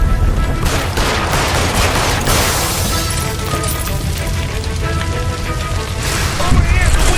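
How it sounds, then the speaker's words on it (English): Repeated gunshots crack inside a house in L.A. Noire as a gas line is shot, mixed with loud crashes and chaotic noise throughout. The bursts land near and forceful, and a brief boom-like swell comes at the end. "Shoot the gas line, Cole, we're out of here!"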